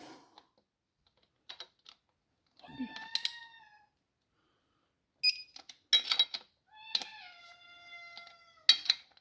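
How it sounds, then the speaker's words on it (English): A cat meows loudly and repeatedly indoors in a garage during car repair work, with short harmonic yowls separated by pauses, growing more insistent toward the end. "That's my cat, by the way."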